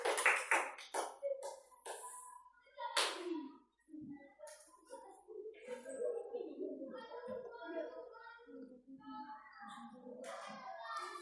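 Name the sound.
classroom applause for group 3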